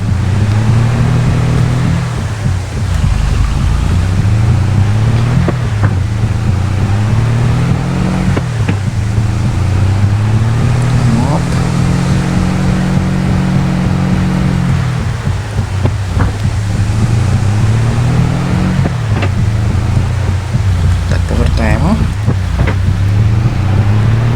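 A vehicle engine droning steadily in Farming Simulator 22, a loud continuous low hum with rising and falling pitch as it accelerates and shifts, carrying on alone for over twenty seconds with a windy rush over it.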